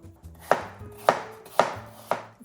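Four evenly spaced knife chops slice thinly through Pink Lady apples on a cutting board, each a crisp, close thud with a short crunch, about half a second apart, with no voices.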